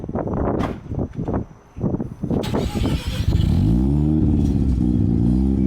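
A rotary turbo car engine, a Turbo 2, cranks over in a few short bursts, then catches and settles into a loud, steady, lumpy idle close by.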